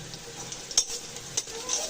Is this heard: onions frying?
yes